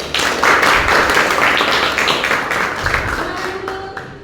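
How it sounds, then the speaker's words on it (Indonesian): Classroom audience clapping for a student group during a Christian religious education session: a dense, loud burst of many hands that gradually thins and fades toward the end. "Tepuk tangan untuk kelompok 1."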